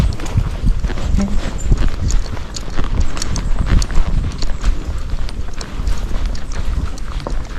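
Hooves of a gaited horse clip-clop steadily along an outdoor trail, a close, continuous pattern of footfalls with rustling and light wind throughout.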